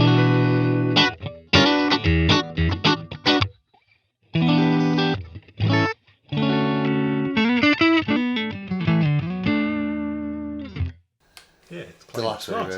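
Clean electric guitar played through a Line 6 HX Stomp on its Deluxe Reverb amp model, heard as bursts of strummed chords and single-note runs with short pauses, fairly loud and up close.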